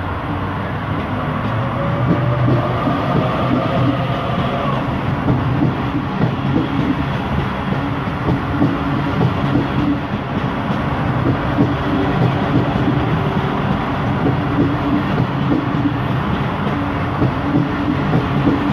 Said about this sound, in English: Now, departing on platform 2, we have the Central via Gordon service.